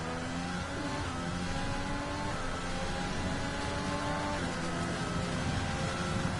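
A race car in a racing sim screams through a flying qualifying lap in Austria, its engine loud and close, pitch climbing and dropping through gear changes.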